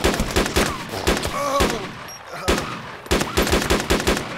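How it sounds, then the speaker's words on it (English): Bursts of rapid gunfire in the video game DayZ crack in quick succession, several volleys with short pauses between them, loud and close, with faint talk in the background. "I hear gunshots."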